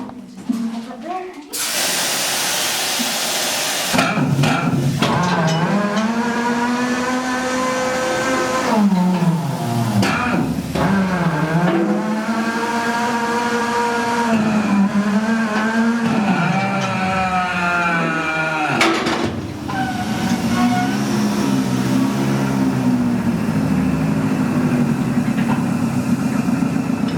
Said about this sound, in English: we brought in our muck machine